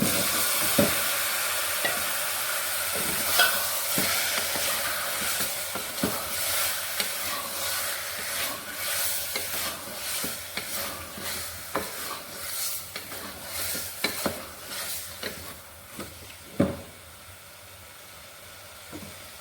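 Chicken stir-fried in a pan hisses and sizzles steadily, with repeated scraping stirs and little clacks of a utensil throughout, and no talking.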